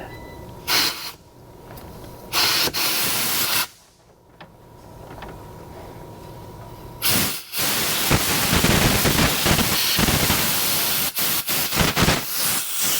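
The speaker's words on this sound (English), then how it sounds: "Just spraying everything out" Bursts of hissing spray start and stop several times while flushing a Mazda CX-5 sunroof drain, then become a longer continuous rush of water with sputtering interruptions.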